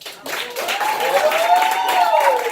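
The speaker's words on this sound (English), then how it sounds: "Give Living Clean a round of applause" Applause from the audience at a Hot Sauce Poetry night. Steady clapping fills the room, with a voice rising and sliding over the top.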